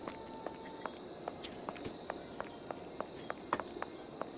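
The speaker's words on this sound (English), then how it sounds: "Chirping crickets." Faint, steady nighttime ambience in the video game Sherlock Holmes Nemesis, with quiet, irregular chirps and clicks of crickets scattered across a soft background hiss.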